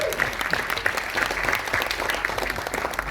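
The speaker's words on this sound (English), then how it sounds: "Please give a round of applause to Meena." An audience applauds at a talk event, with steady, dense clapping from a sizable crowd heard close and fairly loud, continuing for several seconds.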